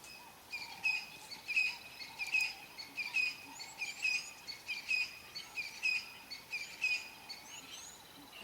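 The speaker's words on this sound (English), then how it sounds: "the crested francolins in the background, always up early." Crested francolins calling on a cold early morning in the Manyeleti bush, a run of rhythmic chirping calls repeating steadily at middle distance over faint insect noise.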